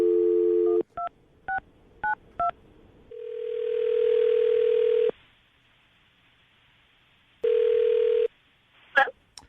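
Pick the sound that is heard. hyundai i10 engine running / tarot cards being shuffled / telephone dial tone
telephone dial tone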